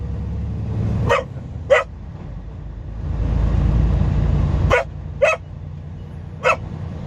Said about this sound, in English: He's just barking at everything.